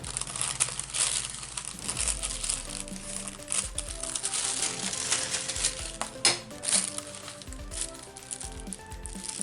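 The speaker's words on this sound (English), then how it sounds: "I'm going to cut it at about right here. Going straight across." Scissors cut straight across a piece of recycled product packaging for a DIY notepad, producing a close, steady run of crinkling, snipping and rustling paper-card sounds with a few sharper clicks, no talking.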